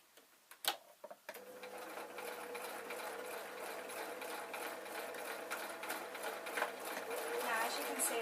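Sewing machine stitching a denim skirt pocket with its lining, starting after a few handling knocks and then running as a steady, fast mechanical whirr and ticking that grows slightly louder, with no talk heard.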